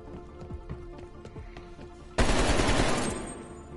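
Rapid automatic AK rifle fire in a video game bursts in loud and close partway through, a dense sustained volley after quieter in-game footsteps and ambient clatter.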